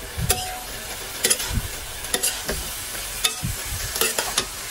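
Cabbage and other vegetables for pancit are stir-fried in a pan, with repeated scraping spatula strokes and clanks in an irregular rhythm over a soft background sizzle, close by and with no talking.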